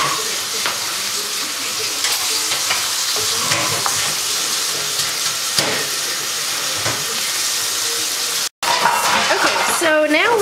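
Bacon fries in a pan for spaghetti carbonara, a steady close sizzle and crackle with occasional stirring scrapes, while a pot of pasta boils nearby; voices talk over it toward the end.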